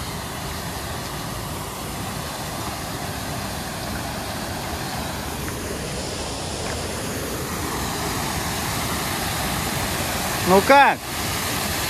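A waterfall near Minsk rushes in a continuous, loud broadband roar that fills the whole scene, while a person speaks briefly near the end.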